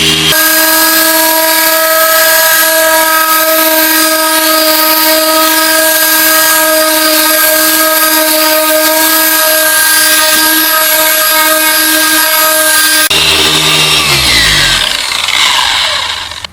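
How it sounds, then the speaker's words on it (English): A car polisher fitted with a foam pad works polish into car paint, giving a loud, steady electric whine held for about thirteen seconds before a sudden shift to a rougher, lower grinding tone near the end. "Now I'm going to finish it with this foam pad, and this is how much polish I use."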